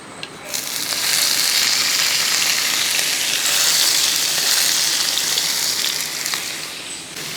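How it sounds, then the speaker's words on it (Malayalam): Chopped onion, tomato, ginger and green chili sautéing in a hot pan, a steady loud sizzle and crackle that runs without a break, with faint stirring. "ഇനി ഇതൊന്ന് ഇളക്കി കൊടുക്കും എനിക്കിതെല്ലാം ഒന്ന് വഴറ്റിയെടുക്കണം"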